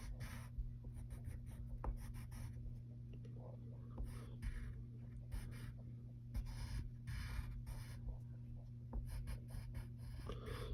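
A pencil sketches zigzag lines of hair on paper, making soft, close scratching strokes in quick repeated bursts over a faint steady background hum.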